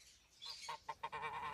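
A farmyard goose honks in quick bursts as it runs off, a few short nasal calls rising into a rapid, louder string of honks near the end.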